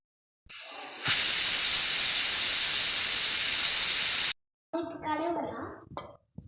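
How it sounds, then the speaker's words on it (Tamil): A pressure cooker cooking rice lets out a loud, continuous whistle-hiss of steam for about three seconds, then cuts off abruptly, followed by a brief voice. "இப்போ குக்கரை மூடி போட்டு மூடி வச்சு 3 விசில் விட்டு இறக்கிக்கலாம்"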